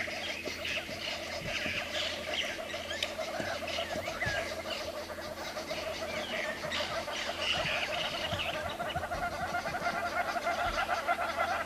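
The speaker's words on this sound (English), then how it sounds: "The birds are going absolutely crazy back there." Wild birds including hornbills, starlings and orioles calling at sunrise on a safari drive, a dense overlapping chorus of squawks, chatters and cackling calls, moderately distant and continuous.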